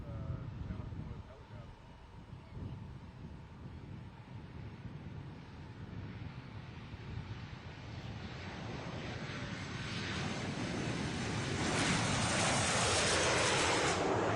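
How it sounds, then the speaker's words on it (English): Steady, rising roar of airplanes on landing approach overhead, swelling louder toward the end, with wind buffeting the microphone throughout. "these are the planes going in for their landing approach"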